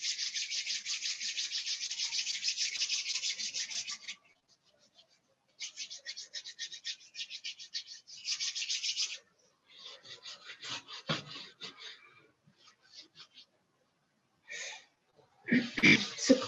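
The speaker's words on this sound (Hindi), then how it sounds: "हम अपनी बॉडी को रब करते हैं।" Hands rub briskly over the body and clothing during a morning meditation practice, a close, dry rasping friction in repeated bursts of strokes broken by pauses, with a few faint other movements.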